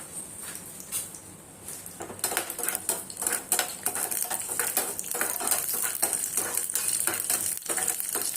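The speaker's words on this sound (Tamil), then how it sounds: "அப்புறம் அது கூட முந்திரி பொரியட்டும்." Cashews fry in oil in a pan for ven pongal, a soft continuous sizzle with metal spoon clinks and scraping as they are stirred, close and fairly quiet.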